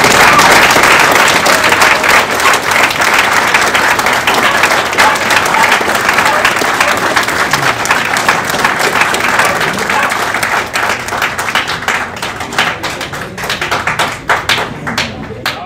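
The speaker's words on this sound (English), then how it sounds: "let's give him a big round of applause" An audience breaks into sustained applause, dense clapping from many hands that holds strong and then thins toward scattered claps near the end.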